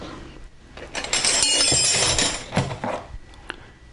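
Metal wrenches from Matco, Mac Tools, Snap-On and Craftsman clink and rattle as they are handled during an unboxing, with a sustained burst of jangling metal and a few sharp clinks, close and fairly loud, no talking.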